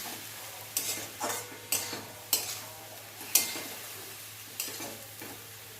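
Spinach fried in a pan with salt, turmeric and a little sugar, a soft continuous sizzle broken by about seven distinct scraping strokes of a spatula at uneven intervals, close up and with no talking.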